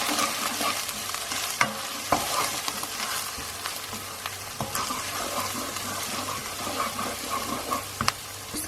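Coriander, chili powder and turmeric are stirred through chicken curry in a hot frying pan, giving a steady sizzle and fry with scraping spoon strokes and occasional clacks against the pan.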